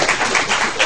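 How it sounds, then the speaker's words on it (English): A lecture audience gives a round of applause, a dense near burst of many hands clapping with irregular louder peaks, briefly and without talk. "Can you give him a round of applause, please?"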